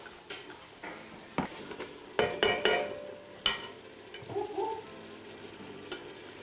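Onions and meat frying for a Congolese rice dish, a steady sizzle broken by several loud clatters and scrapes of a spoon stirring against the pot, with no talking.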